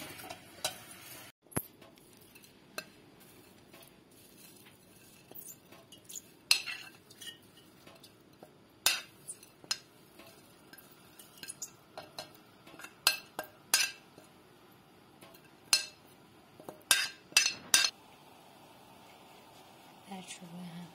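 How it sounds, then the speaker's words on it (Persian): Garlic leaves go into hot oil in a pot, giving a soft sizzle with repeated sharp clinks and scrapes of a utensil stirring against the pot, intermittent and fairly quiet. "پس برگ سیر رو داخل قابلمه اضافه میکنیم."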